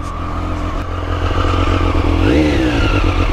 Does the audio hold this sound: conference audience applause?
no